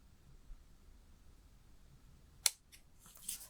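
Scissors fussy cutting around a paper shape give a quiet close snip followed by a few soft, faint cuts in a hushed room.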